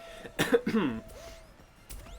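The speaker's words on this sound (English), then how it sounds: "I can't laugh, it makes me want to cough." A couple of short, harsh coughs close to the microphone, followed by a quieter pause and one more brief cough at the end.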